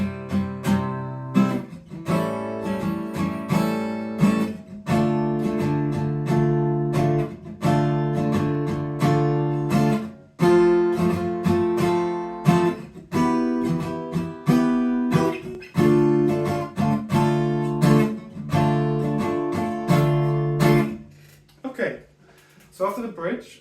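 Acoustic guitar strumming the chords of a song in a steady rhythmic pattern, full and close, with brief pauses between phrases and a soft fading note at the end.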